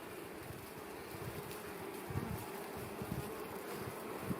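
Honey bees at an apiary near Lviv kept on Ukrainian frames, a dense continuous buzzing swarm hum that holds steady and grows slightly fuller partway through, faint but unbroken, with no voices.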